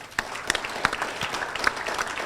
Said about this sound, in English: We can give them applause for this morning's breakfast